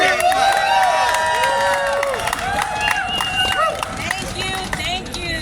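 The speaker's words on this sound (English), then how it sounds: "Give her a hand clap." A crowd at a rally claps and cheers, with whoops and shouting voices over a steady patter of applause that stays fairly loud throughout.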